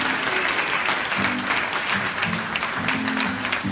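A church congregation clapping and cheering for the Lord at a French-language service in New York, dense continuous applause with voices calling out within the crowd.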